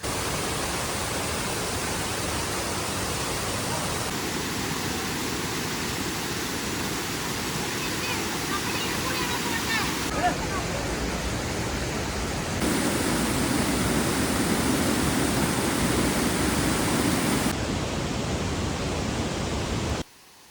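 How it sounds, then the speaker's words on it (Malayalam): A powerful monsoon waterfall in Meghalaya roars as a constant, loud wash of rushing water, steady throughout with slight shifts in level, while a voice speaks faintly over it for a stretch. "അപ്പോൾ നമ്മൾ വീണ്ടും ഒരു അടിപൊളി വെള്ളച്ചാട്ടത്തിൻ്റെ അവിടെ എത്തിയിരിക്കുക കേട്ടോ"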